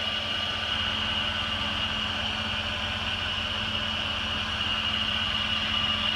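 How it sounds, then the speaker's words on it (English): A 2002 Jeep Grand Cherokee with the 4.7 H.O. engine idling steadily, giving a constant low hum and drone with no ticking or rough patches, heard alone. "Motor runs really, really nice and smooth."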